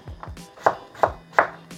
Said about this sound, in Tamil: 4 உருளைக்கிழங்கு எடுத்து தோல் சீவி அதை சின்ன சின்னதாக கட் பண்ணிவிட்டு